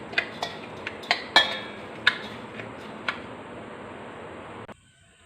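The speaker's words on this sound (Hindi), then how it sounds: "इसको अच्छे से मिक्स कर लेते हैं।" A spoon stirring spices into raw mango pickle in a bowl, producing sparse, distinct clinks and taps against the dish at irregular intervals before stopping abruptly.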